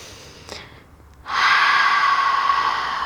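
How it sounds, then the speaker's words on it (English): A deep, audible breath is drawn and then released in a long, steady exhale during a yoga forward fold, close and clear with no talking. "Take some deep breaths."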